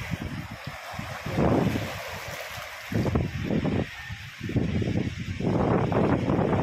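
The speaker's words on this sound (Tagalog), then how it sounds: "Dito tayo sa tabing dagat." Waves washing onto a seashore where fishermen wait with a net, a steady surging roar with wind buffeting the microphone and swells rising and falling throughout.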